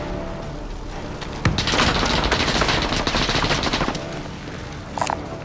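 An assault rifle fires in Call of Duty Modern Warfare Warzone, a loud, sustained rapid burst of close shots for a few seconds, followed by a brief quieter pause and a single later crack.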